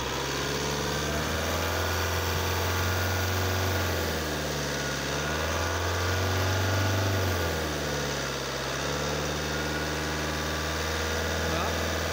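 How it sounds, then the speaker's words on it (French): A car engine revved up and held steady around 2500 RPM during a battery, starter and alternator test, a constant droning hum with slight rises and dips, a voice talking over it. "Accélère jusqu'à 2500 tours. 5 secondes, 2500 tours. Reste à 2500 tours."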